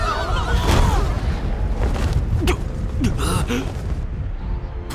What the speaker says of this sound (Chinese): 火莲那般近距离的爆炸